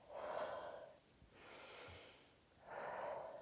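Breathing during an exercise routine, close and fairly quiet: a long airy inhale and exhale, a softer breath in the middle, then another strong breath.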